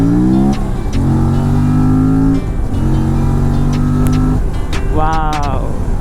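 A 2024 Aprilia RS457 motorcycle accelerates hard, its engine climbing through revs in rising sweeps with brief dips at gear changes, loud and close, ending in a sharp rising pull; the rider's voice is heard over it.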